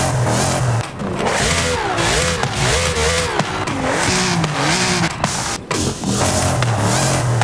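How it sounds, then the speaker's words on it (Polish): A 5-litre V8 car engine revs repeatedly in Forza Horizon 5, its loud, close growl climbing and falling in pitch through several throttle blips with brief pauses between them. "Tutaj mamy jakąś fajną V8-kę 5-litrową."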